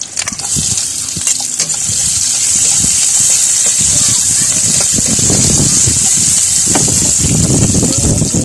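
Onions sizzle steadily in a hot pan while seafood kare-kare is cooked, a continuous bright frying hiss with soft clinks, as a person talks over it.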